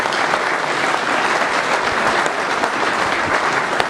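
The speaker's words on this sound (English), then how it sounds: "Round of applause," A crowd at a bass fishing tournament weigh-in at a marina claps in a steady, loud round of applause that holds evenly for several seconds.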